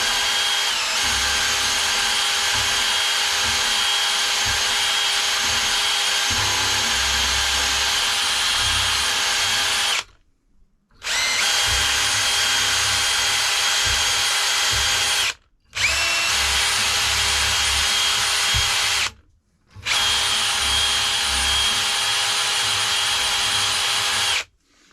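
A power drill running on brake parts from a 2011 Nissan Altima 2.5 SL being serviced whirs loudly and steadily in four long bursts. Each burst is separated by a brief stop.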